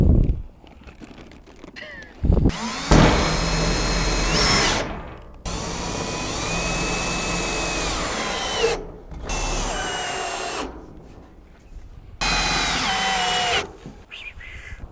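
A power drill drives 1.5 inch black roofing screws in several separate bursts, each a loud whirring run that rises in pitch, with quiet gaps and handling noises between them.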